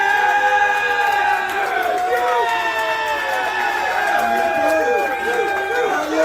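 A large crowd cheering and shouting, loud and continuous, with overlapping whoops and rising calls throughout.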